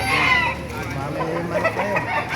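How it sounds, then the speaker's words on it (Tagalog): Chickens cluck and squawk nearby at a busy poultry market in Baliuag, with a rooster-like call rising over the crowd murmur. "Ganda ng mga manok dito sa Baliwag ngayon."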